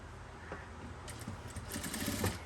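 Domestic sewing machine stitching a churidar sleeve, a faint steady mechanical whir with light rapid clicks, heard close and alone.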